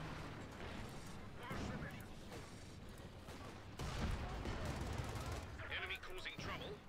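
Tank and artillery gunfire in Company of Heroes 2, a rolling, dense battle soundscape with repeated booming shots and a louder burst midway, mixed under a commentator's voice.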